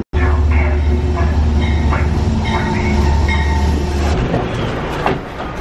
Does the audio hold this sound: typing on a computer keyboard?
no